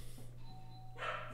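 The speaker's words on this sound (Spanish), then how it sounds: "Llaman al timbre, un segundo." A doorbell rings with two tones, a thin sustained first chime followed by a brighter second note, heard over a steady low electrical hum, with no speech.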